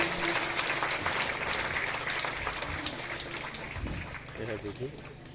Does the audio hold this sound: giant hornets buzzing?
no